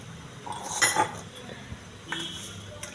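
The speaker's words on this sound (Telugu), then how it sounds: "బాగా కలిపి పక్కకు పెట్టుకోవాలండి కాసేపు" Chicken being mixed by hand with salt, ginger-garlic paste and oil for a country-chicken curry, giving soft clinks of a bowl or utensil and wet squelching, with a louder clatter near the middle and a few light knocks later.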